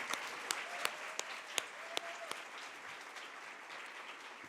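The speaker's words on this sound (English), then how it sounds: "One more round of applause for them." Applause from an audience at a women's wealth event in Central Ohio, a dense patter of many hands with a few sharp, louder claps standing out near the front, moderately distant and steady.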